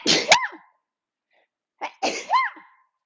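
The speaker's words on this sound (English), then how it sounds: "I'm going to sneeze." Two sharp sneezes, each with a quick inhale and explosive burst, separated by a short silence, close and loud.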